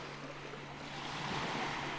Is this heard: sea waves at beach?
yes